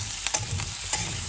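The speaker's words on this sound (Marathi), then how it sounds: "पनीर, कॅप्सिकम आणि ऑनियन एकत्र या मसाल्यांमध्ये आपल्याला छानपैकी मिक्स करायचं आहे." Paneer, capsicum and onion stirred in masala in a kadai, with a spoon scraping and soft sizzling in a few quick strokes, close and alone.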